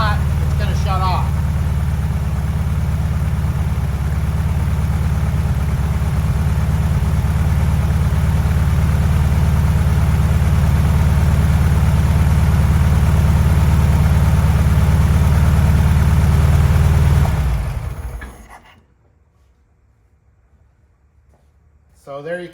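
A 1971 Volkswagen Beetle engine idles with a steady low rumble for most of the clip, then shuts off abruptly after the battery is disconnected, leaving near silence.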